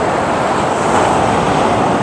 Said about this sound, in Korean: 파도 오시는 거 보이죠?